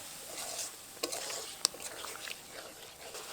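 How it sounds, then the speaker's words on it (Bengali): Magur catfish are stirred in spice paste with a little added water in a pan. The result is a soft, steady sizzle with faint scraping and a couple of sharp clicks of utensil against metal. "এবার জল দিয়েই কিন্তু মাছটাকে ভালো করে কষাবো।"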